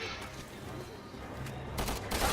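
Rapid gunfire crackles continuously with bursts of louder blasts near the end, dense and harsh like a game battle.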